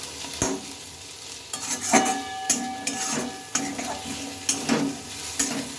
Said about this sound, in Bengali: এইভাবে কিন্তু কিছুক্ষণ তোমাদেরকে ভালোভাবে নাড়তে থাকতে হবে